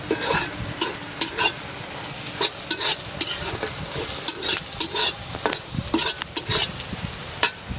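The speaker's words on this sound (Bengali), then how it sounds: "এদিকে পেঁয়াজ ভাজা প্রায় হয়ে আসছে" Onions sizzle in a hot pan, stirred in uneven bursts, with the spoon scraping and clattering against the metal close by and no talking.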